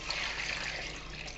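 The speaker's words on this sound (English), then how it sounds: "now I'll probably add another 4 cups of water to this" Water pours steadily into a pot of beef stew with vegetables, a continuous close trickling wash that runs evenly throughout without any talk.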